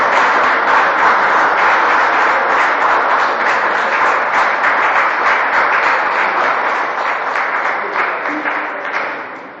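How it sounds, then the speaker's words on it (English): A standing audience at a community gathering gives sustained, dense applause that holds steady for about nine seconds before tapering slightly, with faint voices underneath. "give her a round of applause"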